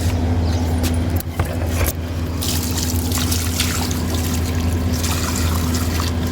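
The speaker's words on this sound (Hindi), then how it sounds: "बाल्टी से पानी डाल रही हूँ मैं, छोटी सी बाल्टी है ये" Water is poured from a small bucket onto an old jasmine plant, making a loud, steady rushing and splashing stream that runs continuously without talk.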